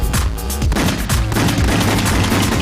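Gunfire in the video game The House of the Dead Overkill: several loud, sharp shots in quick succession with booming low ends, close and alone without talk.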